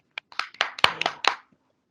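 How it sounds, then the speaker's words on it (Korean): A small church congregation claps for an elder at a Holy Week prayer meeting, a short burst of about eight distinct, close, sharp hand claps that quickly stops, leaving silence. "우리 김전 장로님 다시 한번 박수 좀 해주시면 고맙겠습니다."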